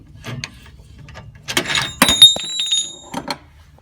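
A ratchet fitted with a 22 mm socket works to loosen a car's O2 sensor near the downpipe, giving irregular metallic clicks and clacks in short close bursts.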